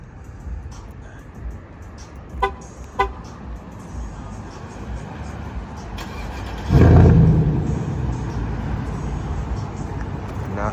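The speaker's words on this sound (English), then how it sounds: "Try to get a quick startup of the truck." Chevrolet LTZ truck with loud exhaust: two short horn toots or chirps, then a sudden loud engine start at about seven seconds settling into a deep, rumbling idle close by.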